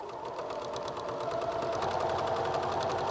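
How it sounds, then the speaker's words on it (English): A sewing machine runs steadily nearby as it stitches around an embroidery hoop. Its rapid needle rattle forms an even, continuous mechanical chatter with no talking. "So we're going to sew around."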